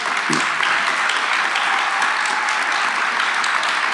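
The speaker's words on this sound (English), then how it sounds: "A round of applause for Joe Dunne for showing up" Steady applause from an audience at a community forum for 48th Ward candidates, a dense, even clatter of many hands filling the room, moderately loud and continuous with no speech over it.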